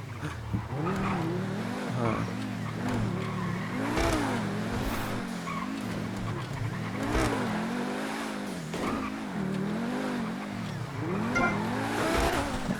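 Car driven in the video game GTA V on a FiveM server, its engine revving up and down in repeated rising and falling sweeps with tire squeals, steady and loud, and a voice talking faintly underneath.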